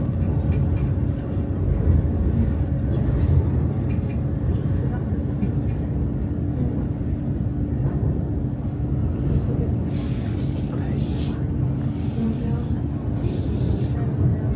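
Passenger train running near Uppsala, Sweden, a steady low rumble and hum heard from inside the carriage, quiet and continuous, with people talking over it at times.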